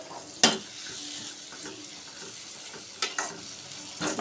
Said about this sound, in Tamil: இதுதான் எங்கள் பொண்ணு வதக்கிட்டு இருக்கா.